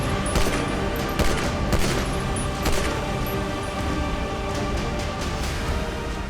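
Rapid bursts of gunfire crackle through a continuous fusillade, loud and dense, with sharp repeated cracks and booms layered over a constant roar across the whole stretch.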